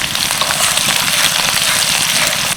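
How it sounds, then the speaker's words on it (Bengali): Chopped garlic with a split bay leaf and a dried red chilli frying in hot oil for brinjal pickle, a steady dense sizzle and crackle running unbroken at close range with no talk. "রসুনটা হালকা করে ভেজে নেব"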